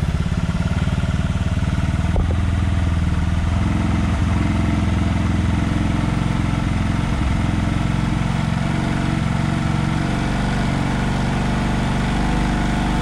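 A Honda Vario Techno 110 scooter with its CVT cover removed and a Daytona belt fitted runs steadily, giving a continuous loud mechanical drone with a low engine hum and a faint rattle, with no talk.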